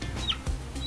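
Chickens on a rooster farm in Boyolali giving brief clucks and squawks within a busy barn din, close and fairly loud over less than a second.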